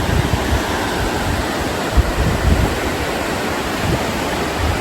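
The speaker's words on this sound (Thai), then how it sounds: "น้ำไหลแรงมา" Strong rushing water from a waterfall in a national park, a steady, dense roar that fills the whole clip with no voices.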